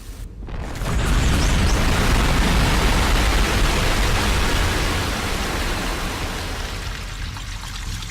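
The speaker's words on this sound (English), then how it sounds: "we get a chain reaction of explosions with creamed corn" A chain reaction of explosions with creamed corn cans in the video game The Cave: a loud, sustained roaring blast of broadband noise that starts abruptly after a brief pause and then slowly fades, with no voices.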